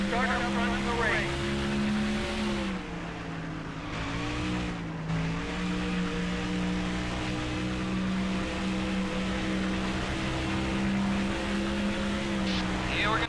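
A stock car engine roars through a qualifying lap at Dover in NASCAR Thunder 2004: a steady, loud drone that dips and rises with the corners, and a voice talks over it throughout.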